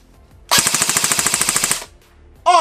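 A Delta Armory AR15 CQB-R Charlie airsoft rifle lets off one loud, rapid full-auto burst of about seventeen even shots lasting just over a second, then goes quiet before a brief loud noise at the end.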